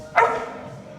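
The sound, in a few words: dog barking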